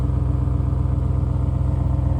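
Stock, never-tuned Audi RS6 from Germany idling: a steady, deep engine rumble with a throbbing low-frequency pulse, close and loud, continuous throughout with no talking.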